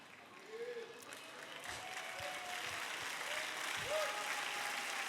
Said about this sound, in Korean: 잠깐 박수 치지 마세요